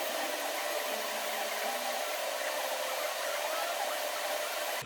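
Steady broadband hiss and crackle of welding on a custom 3-inch turbo exhaust pipe, continuous and fairly loud with no breaks, alone without talk.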